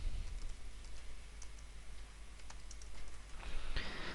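A computer keyboard types a file name while saving a merged PDF, giving faint, quick clicks in short bursts over a soft background hiss, with no voices.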